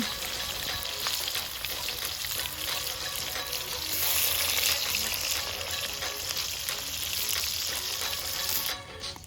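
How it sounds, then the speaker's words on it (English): Onions sizzle loudly in hot oil, a dense crackling hiss that holds steady throughout with brief pops and a faint stirring scrape. "Now that the onions are sizzling on the fire"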